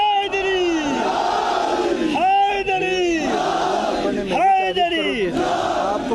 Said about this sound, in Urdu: کوئی ہے نعرہ حیدری لگوا دے